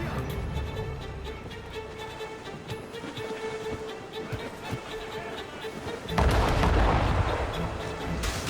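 Ship's cannons fire in a naval battle in Assassin's Creed Rogue, a rumbling barrage of low booms over continuous sea and wind noise, swelling into a loud, heavy blast near the end.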